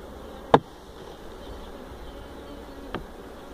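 Honeybees hum steadily inside a hive after an oxalic acid vapor varroa treatment, a soft continuous drone with two sharp knocks breaking through it.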